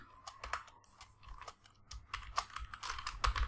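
Rapid, uneven tapping on a computer keyboard, close and fairly quiet, with clustered keystrokes and brief pauses while typing out Python code.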